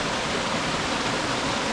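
A hidden waterfall on the Suha stream in Bohinj rushes in a steady, dense roar, close and unbroken, with no voices.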